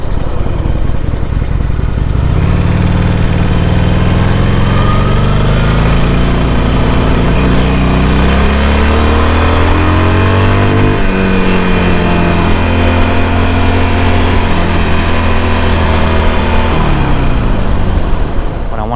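A 2020 Harley-Davidson Iron Sportster 1200 fires up after a brief pause and runs loud and close, a deep throbbing V-twin idle that rises in a few revs before settling back.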